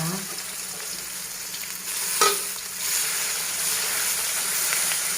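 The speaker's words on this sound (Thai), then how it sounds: "น้ำพริกปลาทู ลงไปผัด ลงไปผัดนะจ๊ะ" Mackerel chili paste stir-fried in a pan gives off a steady, close sizzle with hissing steam, and a brief louder scrape of the spatula cuts in midway.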